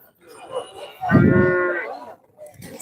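Cattle at a livestock market moo in one long, loud, nearby call lasting about a second, with softer lowing and faint background noise before and after.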